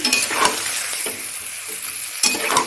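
Chilli paneer sauce simmers and sizzles in a pan, a steady close frying hiss with bubbling and occasional stirring scrapes, with no voices.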